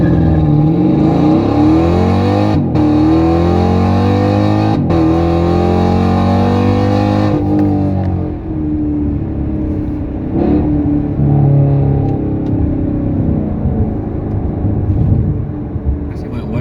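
A 2019 Chevrolet Camaro SS launches hard on launch control, its V8 roaring loud and close with repeated revving rises that briefly cut and catch before pulling away, then easing off.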